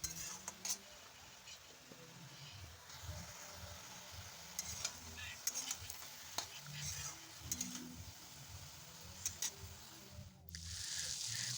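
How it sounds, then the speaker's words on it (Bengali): Brinjal frying gently on a low flame with turmeric and salt, giving a soft continuous sizzle with occasional clinks and scrapes of a spatula stirring in the pan, quiet and close, with no talk. "একটু হলুদ আর লবণ দিয়ে ভালো করে নাড়াচাড়া করে নেব নিয়ে কম আগুনে এটাকে একটু ভালো করে ভাজা করে দেবো"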